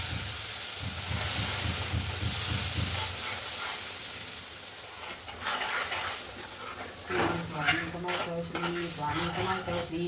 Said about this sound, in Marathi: आता आपण हे गरम गरम दूध टाकून घेऊ, थोडंसं टाकायचं अगोदर